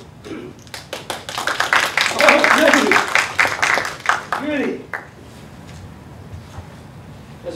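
A lecture audience at San Diego Mesa College claps for speaker Jerry Mason, a burst of dense applause that swells, peaks and tapers off over several seconds.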